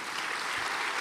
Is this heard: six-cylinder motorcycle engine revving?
no